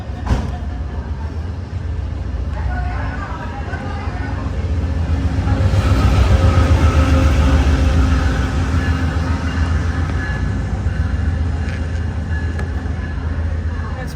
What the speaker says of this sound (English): Mix of train cars.